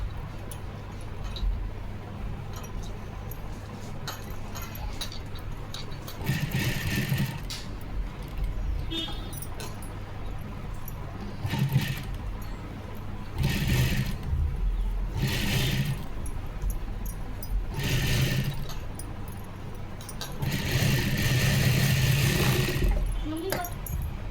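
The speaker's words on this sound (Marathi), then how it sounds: "आता बघा डबल परत शिलाई करून घ्यायची, जेणेकरून मागची फिनिशिंगसुद्धा छान येईल" A sewing machine stitches piping around the back neck of a blouse in short separate bursts of whirring, sounding close and moderately loud. Quiet speech runs between the bursts.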